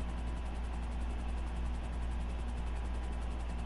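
Police helicopters hover over a GTA 5 scene, their rotors and engines blending into a steady, distant droning wash of noise with no one speaking.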